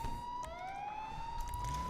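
A police car siren in the video game GTA 5 wails continuously with a rising, sweeping tone, loud and steady throughout with no talk.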